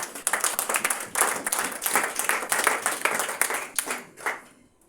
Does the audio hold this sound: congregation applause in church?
yes